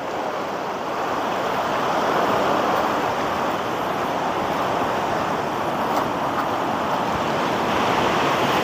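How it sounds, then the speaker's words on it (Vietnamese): Strong ocean waves break on a beach by a fishing village, a continuous loud wash of surf with wind noise and no talk, steady throughout. "Nãy giờ đi sóng nó đánh mạnh quá, nó đánh nhanh mà chạy không kịp"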